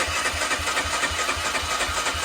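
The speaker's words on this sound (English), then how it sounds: "I think this bike will start." A long-unused barn-find Honda CG 125 motorcycle engine runs close and loud, with a steady rhythmic chugging pulse and constant mechanical noise.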